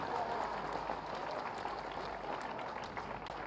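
A crowd at a political gathering in Gorakhpur claps steadily for the full stretch, a dense, continuous wash of applause with no pauses or talk over it.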